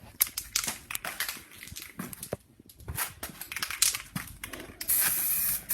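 An aerosol can of spray primer hisses in short repeated bursts over masked parts, with rustling and handling between sprays, then one longer sustained spray near the end, close and fairly quiet.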